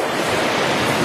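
Ocean surf rolls onto the shore at Cape D'Aguilar near Thunder Cave, a steady, close, rushing wash of waves with wind noise and no talking.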